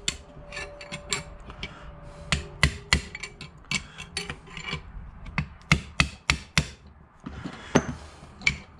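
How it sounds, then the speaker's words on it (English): Brass hammer tapping on a Ford 8.8 differential gear during installation, a series of sharp metallic strikes in irregular bursts, some rapid and some spaced apart, close and distinct with no talking. "Now I'm past the gear part, which I'm just going to use brass hammer"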